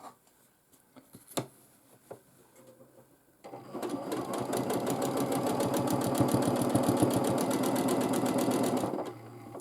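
A domestic sewing machine stitches a quilt, first a few scattered clicks and handling knocks, then a steady rapid run of needle strokes that holds for several seconds before stopping.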